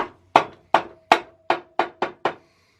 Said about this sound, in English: And now we tap it all the way around with a rubber hammer